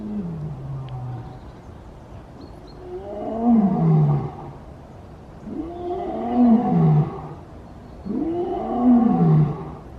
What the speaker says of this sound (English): I can hear him roaring from here.